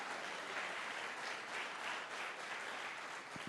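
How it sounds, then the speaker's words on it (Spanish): A church congregation applauds during a sermon, a dense wash of many hands clapping that sounds distant and fairly faint, steady without pauses. "Dale un aplauso al Señor si se lo quieres dar."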